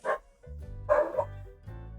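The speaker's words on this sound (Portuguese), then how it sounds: "Temos cachorros latindo" A few dogs bark and yip close by in short bursts, with a low engine-like hum underneath.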